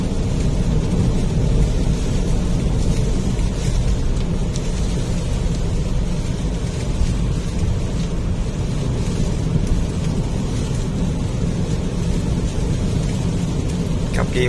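Heavy rain from Typhoon Noru pours down in a constant roar, with low rumbling beneath and a steady wash of noise throughout.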